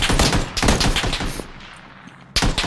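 Loud, dense bursts of automatic gunfire in a multiplayer shooter video game, close and overlapping, easing briefly before another sharp burst at the end.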